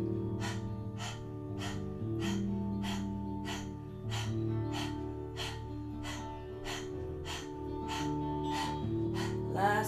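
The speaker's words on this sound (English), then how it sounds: "sticking the tongue out as far as you can, and breath of fire through the mouth, tongue out" Forceful mouth breaths of Kundalini yoga breath of fire with the tongue stuck far out, pulsing in a steady, even rhythm over a sustained musical drone.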